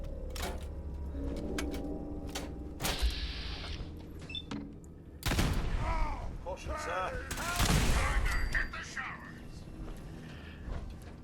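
Gunfire from a suppressed Gauss rifle in the Fallout 4 video game, with several sharp shots and bursts spread over the clip, mixed with game effects and a player talking between shots.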